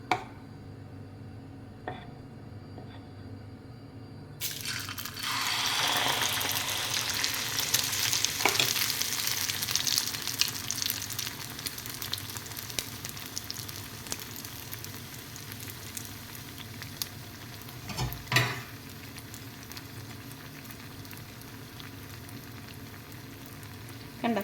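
Muttayappam batter fries in a pan with a faint, steady sizzle and crackle, which swells in intensity after a few seconds when fresh batter goes in, accompanied by occasional soft clinks.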